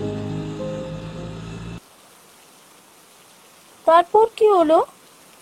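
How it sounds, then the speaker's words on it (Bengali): Heavy rain pours as a steady, soft hiss in an animated ghost story. It follows a sustained musical chord and carries on under a brief spoken question near the end. "একদিন সকাল থেকে এরকমই মুষলধারে বৃষ্টি হচ্ছে।"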